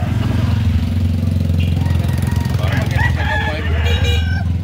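A rooster crows at a busy chicken sale, a clear call rising over a loud, crowded mix of clucking fowl, engine rumble and people talking nearby.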